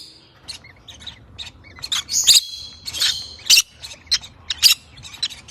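Pet birds call indoors with a string of sharp chirps and squawks, bursting in irregular clusters over a quiet background.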